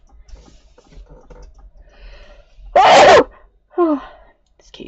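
A single loud sneeze bursts out indoors during a crafting session, preceded by faint keyboard tapping and followed by a short voiced gasp or exclamation.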